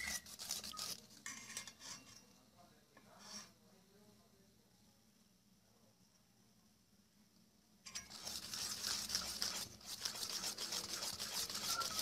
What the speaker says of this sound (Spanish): Lo vamos batiendo hasta que se forme una masa homogénea